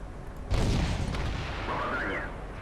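A tank cannon firing a shell in a tank video game, a single heavy boom around half a second in, followed by a sustained rumbling tail and a faint whistling tone, moderately quiet, with no talk.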